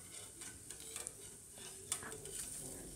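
Paneer-stuffed bread pakora fries in hot oil over a medium-to-high flame, giving a quiet, steady sizzle with a few faint clicks and pops.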